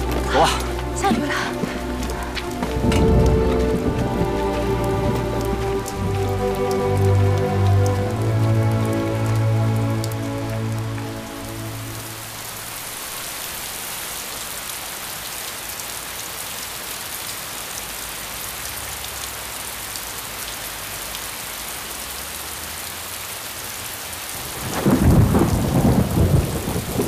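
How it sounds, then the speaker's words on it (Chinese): Heavy rain pours steadily, joined by a deep rolling rumble of thunder early on and a fresh loud crack near the end, with music fading out beneath the storm. "下雨了"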